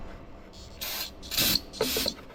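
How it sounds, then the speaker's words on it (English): Short hissing bursts of carb cleaner sprayed into the engine of a Lull forklift, three or four close, fairly loud spurts separated by brief pauses. "I'll just take some carb cleaner and spray it in there."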